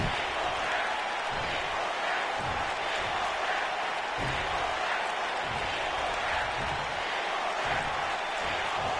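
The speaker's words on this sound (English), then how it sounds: "Are the crowd saying are the crowd chanting "You're a mess"?" A steady roar of an arena crowd in a wrestling video game, with a dense, continuous wash of voices and faint rhythmic chanting swells throughout, no single voice standing out.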